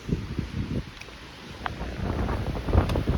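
Breezy wind on an Appalachian Trail hike, gusting and buffeting against the microphone in uneven low rumbles that rise and fall, outdoors with no talking.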